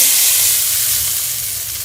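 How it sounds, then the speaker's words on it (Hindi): Hot tadka tempering poured over a yogurt and bottle gourd curry gives a loud, steady sizzle that fades slightly as it settles, with no talking. "तड़का तैयार हो गया है तो अब हम इसे कद्दू के ऊपर लगा लेते हैं"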